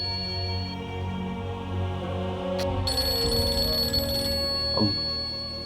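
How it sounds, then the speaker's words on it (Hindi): Telephone ringing indoors in a Pakistani drama household scene, a steady electronic ring running throughout, moderately loud, with music underneath and no talk. "नाइला का फोन है।"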